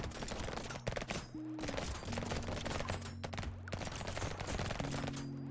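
Rapid, dense gunfire from weapons in the video game Brotato crackles nonstop, near and loud, over steady tonal game music.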